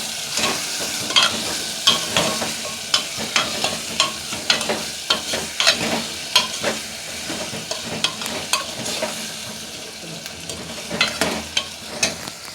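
Food being stirred in a hot frying pan for a Gujarati vegetable dish, with steady sizzling and repeated sharp scrapes and clinks of a spoon against the pan, loud and close, without talk.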